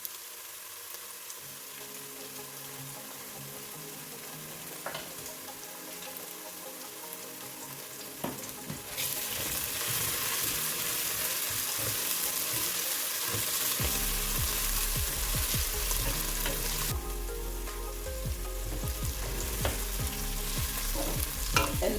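Tomato paste sizzles and fries in a pot with chicken feet and hot chilies while being stirred, with a steady crackle that grows louder and denser partway through, scraping strokes audible, no talking.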